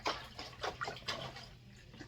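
Tap water poured into a LetPot LPH Max smart hydroponic system, quiet splashing and dripping in short irregular bursts, faint and near.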